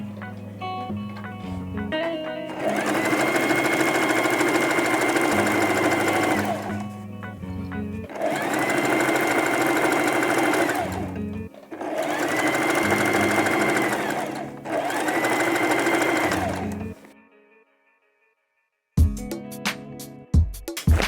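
A sewing machine runs a zigzag stitch along fabric edges under the presser foot, buzzing in four long, steady bursts with short pauses between them, then stopping. A few faint clicks follow the silence.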